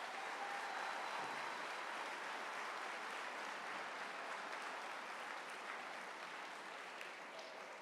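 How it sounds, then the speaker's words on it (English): Audience at a school assembly applauding, a steady dense wash of clapping from many hands that holds evenly throughout and eases slightly at the end. "These two deserve a round of applause for their selfless efforts and service to others."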